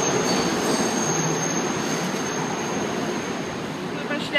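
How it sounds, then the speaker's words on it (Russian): A train rolls past with sustained high metal wheel squeal over a loud continuous rumble, close and steady throughout, in a run-down part of a city. "Вот идет поезд."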